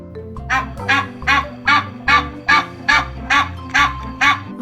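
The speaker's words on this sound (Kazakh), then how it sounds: "Қаз, дұрыс айтасыңдар, қаз." A goose honks in a steady series of about eleven loud, nasal calls, close and evenly paced, each a short brassy blare with brief gaps between.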